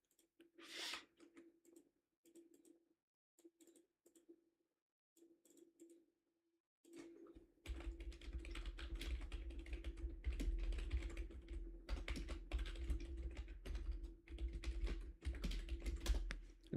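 Fast keyboard typing at a computer, first in short bursts with pauses, then a dense continuous clatter of keys over steady background noise for the rest of the stretch.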